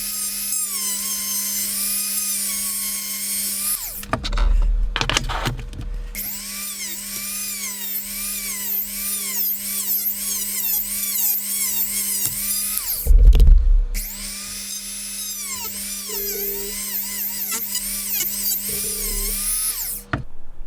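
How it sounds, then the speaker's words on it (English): A Dremel rotary tool trims the front top plate of a Tamiya M06 RC drift van, whining at high pitch in long steady runs with brief pauses and one louder grinding burst partway through. "I had to take the smallest amount of that front top plate off with the Dremel"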